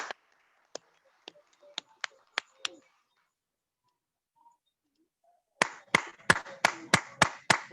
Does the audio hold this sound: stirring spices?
no